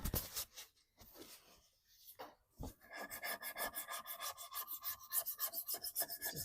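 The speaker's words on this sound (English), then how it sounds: "So I'm just going to use some lemon oil to eat away that sticky." Lemon oil being rubbed onto sticky residue on a thrifted wooden furniture piece, heard as a close rhythmic rasping scrub that speeds into rapid repeated strokes after a brief pause, with no talking.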